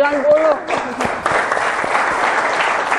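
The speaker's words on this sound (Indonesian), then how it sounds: "Oke, anak-anak, tepuk tangan untuk kalian." Students in a junior high school classroom in Madiun clap together, a dense burst of applause with a teacher's voice briefly heard at the start.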